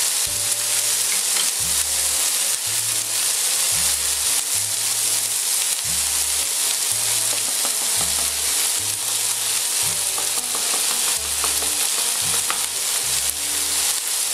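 Tomatoes added to a pan of cooked onions fry with a loud, steady, close-up sizzle that hisses without pause, and a soft rhythmic low thumping repeats underneath.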